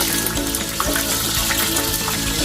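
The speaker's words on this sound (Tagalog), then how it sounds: "Si okra man na. okra. Yan. Prituin din natin to." Okra frying in a pan, a steady, close, continuous sizzle and crackle of hot oil with no talk over it.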